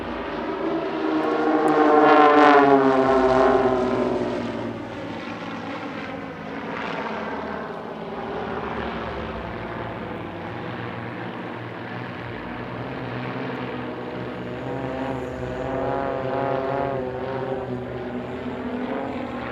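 A formation of propeller aircraft flies an outside loop at an airshow in Leszno, engines droning loudly and continuously, swelling and fading with shifting pitch as the planes pass and turn.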